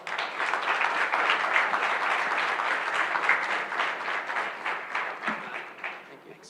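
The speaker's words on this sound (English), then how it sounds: "Give it a round of applause, please." Audience applause for a finalist team at a carbon removal challenge showcase, with a full burst of crowd clapping that holds steady, then thins and tapers off toward the end.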